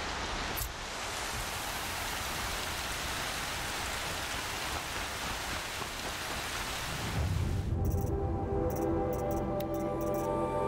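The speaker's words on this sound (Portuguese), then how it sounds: "Não vou ouvir nada por cima dessa chuva." Steady heavy rain pours in the video game Horizon Zero Dawn, a dense continuous hiss that holds alone for several seconds before giving way to quieter game ambience and a few tonal sounds.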